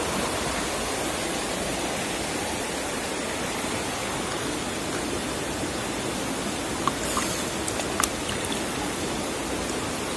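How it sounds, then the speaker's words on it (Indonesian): A strong, fast river current rushes steadily over a deep stretch of water, a dense continuous roar of flowing water with a few faint clicks near the end. "di bagian yang tengah itu arusnya agak deras"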